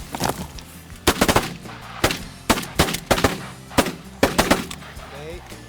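Shotgun blasts ring out during a morning waterfowl hunt for geese in Saskatchewan, about ten sharp reports in irregular bursts and pairs, some overlapping, loud and close over a low background rumble.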